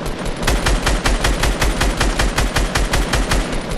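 Rapid automatic gunfire in Fortnite Battle Royale, a steady loud burst of evenly spaced shots lasting several seconds, with no talk over it.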